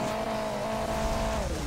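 Engine drone with squealing tires from a lightened car in the mobile racing game Hill Climb Racing 2, steady and loud throughout, the pitch sliding downward near the end.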